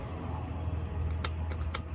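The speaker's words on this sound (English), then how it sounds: "I'm going to go ahead and cut off the excess here" Excess shock cord on a guy-line being snipped off: two sharp, quiet cuts about half a second apart, close up over a steady low background hum.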